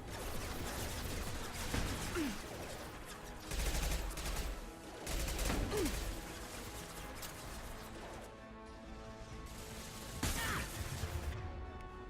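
Gunfire in the video game Mass Effect 2: repeated bursts of automatic weapon fire and impacts over a busy combat soundscape, loud and close, with several heavier volleys spaced through the scene.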